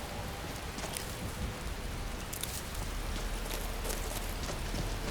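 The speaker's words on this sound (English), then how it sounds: "Oh, the rain is back." Steady rain falls in Skyrim, a dense, even hiss of drops pattering on surfaces throughout, close and unbroken, with no voices.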